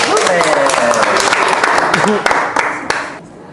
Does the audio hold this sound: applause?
yes